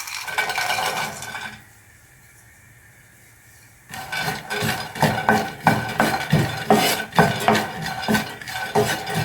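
Raisins sautéing in a pan for a kashmesh polo rice dish, a steady sizzle with repeated scraping and stirring strokes against the pan, dropping to a quiet pause before the rhythmic stirring resumes.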